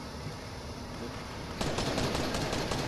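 Fortnite gunfire breaks out halfway through as a fast burst of loud, evenly spaced shots over a steady in-game background hum.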